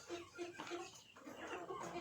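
Chickens cluck softly and intermittently at a distance, a low, faint farmyard sound with no talking.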